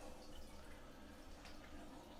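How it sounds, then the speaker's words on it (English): Water runs into a toilet tank after the toilet is swapped out, a faint, steady trickling fill with a few drips, heard alone. "Tank's filling up"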